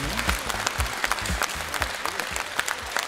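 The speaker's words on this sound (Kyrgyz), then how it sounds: "Ильяс алып барсын дегендер кол чаап коюңуздарчы." Audience applause fills the hall at an event, a dense steady patter of many hands clapping throughout with a few louder claps standing out, no talk over it.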